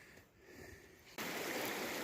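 A mountain creek flows with a soft, steady rush that jumps suddenly to a brighter, fuller wash partway through.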